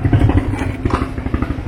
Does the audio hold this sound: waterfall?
no